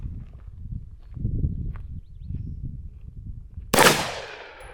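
A single sharp Walther PDP F Series pistol shot cracks out loud and close near the end, its broadband burst trailing off in a short decay after several seconds of low shuffling rumble.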